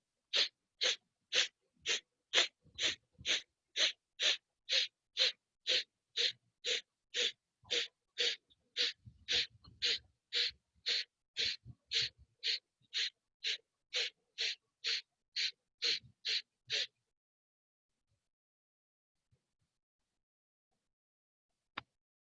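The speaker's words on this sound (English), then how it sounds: "So Kapalbhati again, forceful exhalation." About twenty-five sharp, forceful nasal exhalations of Kapalbhati yoga breathing, one through a single nostril, come in an even, rapid rhythm close to the mic, then stop abruptly, leaving near silence with a faint tap at the end.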